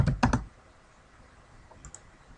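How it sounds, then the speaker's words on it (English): A computer keyboard being typed on, a quick cluster of three loud close key clacks followed by a pause and a couple of fainter soft clicks. "all you have to do is type in their last name."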